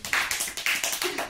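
Rhythmic hand clapping from a small group, several sharp claps in a quick regular pattern, loud and close with no talk over it.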